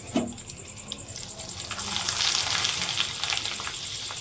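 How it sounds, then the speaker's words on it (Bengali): Papad frying in hot oil, a loud close sizzle that swells after a soft start and holds as a steady crackling hiss to the end, with no voices. "তো চলো দিদি পাঁপড় ভেজে নেক"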